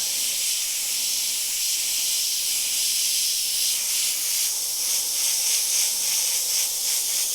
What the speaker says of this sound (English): I'm going to use this to airbrush in the wave.